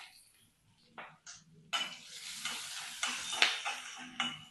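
Curry leaves, green chilli and ginger sauté in a pan with a crackling sizzle, broken by several short scraping stirs; earlier, a few quiet clinks come before the frying noise grows louder.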